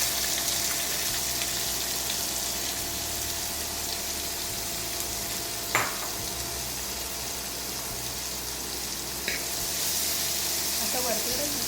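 Finely chopped onion fries in oil for a Puneri misal, a continuous even sizzle with faint hiss throughout, broken by a couple of brief knocks and stirring clatters.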